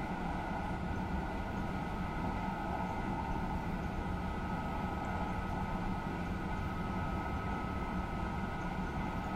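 High-speed train running at about 320 km/h, a steady, even roar with a sustained mid-pitched hum and rushing noise throughout, no talking.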